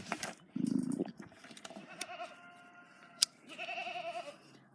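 A goat bleats and fusses while its hooves are trimmed on a farm: a loud wavering cry, a short sharp knock, then a longer quavering bleat, close by with no talking.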